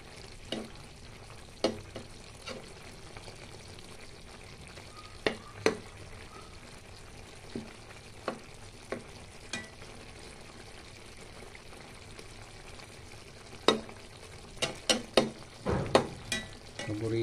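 A utensil scrapes and stirs tuna and eggplant simmering in coconut milk in a pan, giving scattered sharp knocks over a steady bubbling sizzle.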